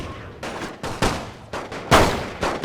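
Artillery fire in The Great War 6.0 strategy game, about six distinct booming shots at irregular intervals, the loudest near the end, each trailing off into rumble.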